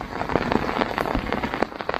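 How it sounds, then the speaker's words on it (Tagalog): Heavy rain pours during a typhoon in the Philippines, over farm fields, as a dense, continuous hiss with sharp crackling drops scattered throughout, loud and close. "nakita ninyo sitwasyon natin ngayon na napakalakas ng ulan"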